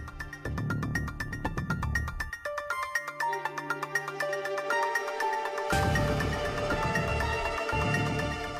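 A telephone rings unanswered in a hotel, a repeating electronic pattern going on and on, interrupted by a brief steady tone partway through.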